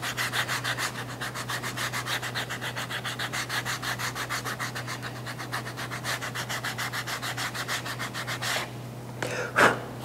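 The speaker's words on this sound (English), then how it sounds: "now we are just going to sand the top." Top edge of a leather tri-fold wallet sanded by hand, a close, even back-and-forth rasp in a fast steady rhythm over a low electrical hum, ending with a few louder scuffs and a knock.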